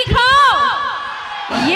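A large audience at a live stage show shouts back loudly in unison, a swelling mass of voices and whoops that fades and then rises again in a second burst.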